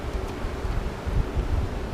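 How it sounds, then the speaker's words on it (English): Steady low rumbling wind buffets the microphone, with gusts swelling and easing throughout and no voices. "It's a little windy."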